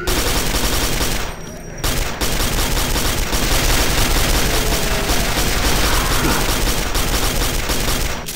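Sustained, loud gunfire from a sniping player in the PC shooter Quake 4, nearly continuous rattling shots with one brief lull, heard close and without speech.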